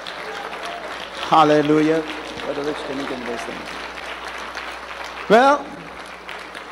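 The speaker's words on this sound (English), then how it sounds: "Clap your hand while you stand." A church congregation stands and claps along during a praise service, a steady wash of hand claps running under a preacher's loud exclamations.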